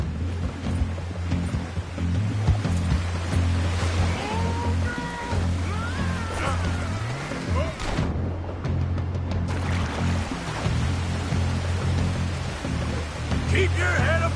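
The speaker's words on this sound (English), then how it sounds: "Look out, the rapids." River rapids rushing with a steady, loud wash of water that runs through the whole stretch, while a voice speaks over it.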